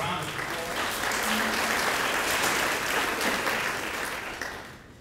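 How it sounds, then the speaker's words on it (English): A crowd applauds at a county Board of Education meeting, steady dense clapping filling the room for about four seconds before tapering off, with a faint voice briefly audible partway through. "a round of applause."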